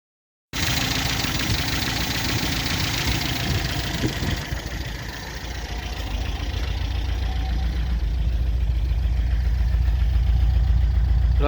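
MGB car engine idling and running rich with the choke held on, a close, loud, steady low rumble with a slight knocking vibration that grows a little heavier toward the end.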